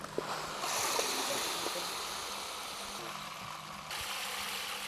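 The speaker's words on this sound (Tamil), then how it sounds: "இந்த 4 கிலோ DAP 10 லிட்டர் தண்ணியில் இப்போ நம்ம கொட்டுறோம்" Fertilizer granules of DAP, 4 kg, poured into 10 litres of water make a steady rushing, hissing splash lasting several seconds with brief shifts in intensity.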